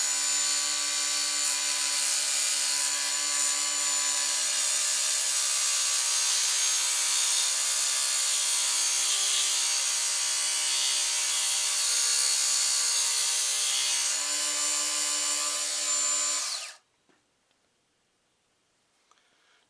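A knife blade being drawn through a Smith's tool and knife sharpener, a continuous loud grinding rasp that holds steady for about sixteen seconds and then stops abruptly into near silence.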